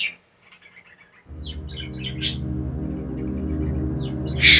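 Birds chirp in short bright tweets, sparse at first and then over a steady low hum, with a sharper chirp burst at the end.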